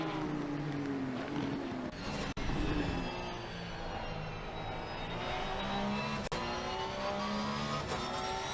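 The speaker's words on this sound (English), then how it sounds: "The car sounds cool." Racing car engines in the video game Assetto Corsa Competizione at Misano roar steadily with rising and falling pitch as gears shift, a continuous high-revving drone with a couple of sharp clicks.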